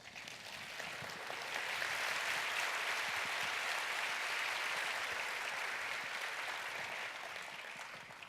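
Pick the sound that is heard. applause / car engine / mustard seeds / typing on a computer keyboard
applause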